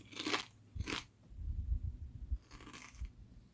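Crunchy bites into kettle-cooked Clancy's Cuban sandwich flavor potato chips: two sharp close crunches, then muffled chewing and a third crisp bite, with no talking.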